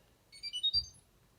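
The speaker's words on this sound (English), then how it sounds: "There are some user warnings, which is where it plays a tune that sounds like this" A Fisher Paykel Smart Drive washing machine plays its user warning tune: a short, quiet run of rising electronic beeping notes, about five tones in quick succession, heard alone.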